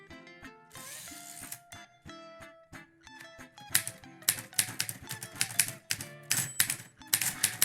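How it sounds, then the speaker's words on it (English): A manual typewriter chatters in uneven bursts of sharp clacking keystrokes, with bright metallic tones among the strikes, close by and fairly quiet, getting busier in the second half. "Click-clack, click-clack, ding, ding, click-clack, ding, click-clack, ding."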